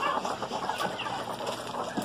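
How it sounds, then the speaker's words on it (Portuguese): A young bantam hen clucks softly and steadily on a farm, with a busy outdoor background and no talking. "Nós estamos aqui com essa garnizé nova que eu ainda não mostrei pra vocês"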